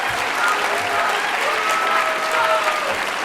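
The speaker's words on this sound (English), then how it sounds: "Let's clap our hands for freedom of speech in this country." A crowd at the Cleveland mayor's State of the City 2024 address breaks into steady, dense applause, loud and continuous throughout, with a few faint cheers or voices mixed into the clapping.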